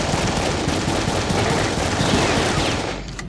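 Loud, continuous gunfire roars in Serious Sam 3 BFE, a dense rattling stream of rapid shots filling the whole stretch before easing off at the very end.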